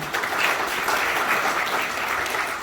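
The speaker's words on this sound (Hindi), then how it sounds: "समय समय पर तालियां बजा दिया कीजिए" A devotional gathering's audience claps steadily, a dense, even wash of applause from many hands, sustained and moderately loud with no voices.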